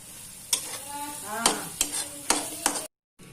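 Curry leaves drop into hot oil over a yogurt gravy and crackle in a few sharp bursts of sizzling amid stirring, close and fairly loud, before cutting off.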